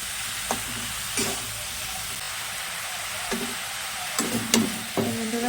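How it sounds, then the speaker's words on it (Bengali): Bottle gourd is stirred into fried spice paste in a pan, a constant soft sizzle broken by several sharp scrapes and clacks of the spoon against the pan, close by and without talk. "নাড়া করে দিয়ে নিচ্ছি"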